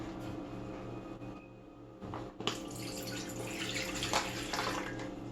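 Water is poured into a bread machine pan, giving a close, gentle trickle and splash that grows fuller in the second half over a low background hum, with no talking.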